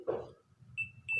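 A multimeter's continuity buzzer beeps with its probes on a capacitor leg while repairing a Polytronic smart TV remote, giving two short, steady electronic tones separated by a brief gap after some handling noise.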